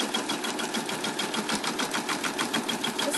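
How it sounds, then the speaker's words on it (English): A sewing machine stitches down appliqué fabric with a fast, steady mechanical chatter of rapid needle strokes that stays even throughout, close and moderately loud with no talking. "hit start. And this stitch will make sure that your applique fabric is"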